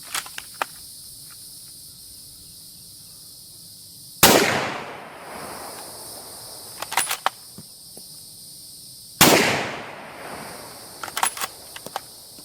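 An M1917 rifle fires at a 12-inch steel plate downrange, two loud sharp shots several seconds apart, each with a long decaying echo and faint clicks of the action between them.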